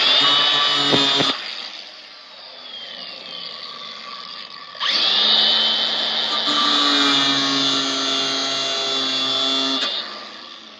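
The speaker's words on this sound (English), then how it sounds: "I want to buy new emergency brake cables, so cut the old one." Power tool cutting through an old car emergency brake cable, a loud close whining buzz that runs, pauses briefly, then resumes steady and strong, with no voices.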